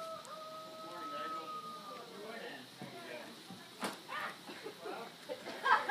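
Faint chickens cluck and a rooster crows softly in the distance in a Lepcha village in Sikkim, with scattered voices and light background noise.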